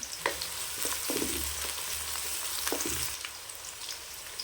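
A mix of small and large onions sizzles and fries in a pan for a spicy offal gravy, making a steady, moderately quiet crackle with occasional stirring clinks and no talking.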